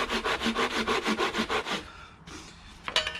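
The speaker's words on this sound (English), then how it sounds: "And it works equally as well with a Japanese saw." A Japanese saw cuts wood clamped on a Roman workbench: about a dozen quick, rhythmic rasping strokes close by, then the sawing stops and a faint clatter follows.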